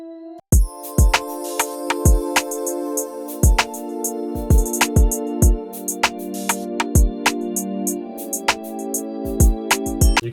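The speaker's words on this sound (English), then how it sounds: "So I'm gonna add some 7th notes onto these." Seventh chords layered in a music production session, sounding as a sustained synth or keys progression with sharp percussive hits punctuating a steady rhythm, loud and without talk.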